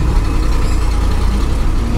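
A 1965 Ford F350 tow truck with a 352 engine idles loudly and steadily up close, a deep continuous rumble with no voices.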